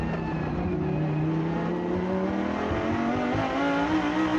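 A Lamborghini Super Trofeo race car circles the Inje Speedium track in Asia, its engine note loud and near, pitch rising steadily as it accelerates uphill, a continuous roar with no voices over it.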